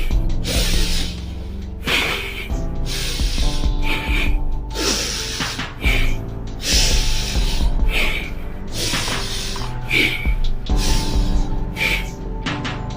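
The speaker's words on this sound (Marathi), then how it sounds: "लांब श्वास घ्यायचा, सोडायचा नाही." Long, deep yoga pranayama breaths taken during butterfly pose come as a series of airy hisses roughly every two seconds, close and clear over a steady tonal background.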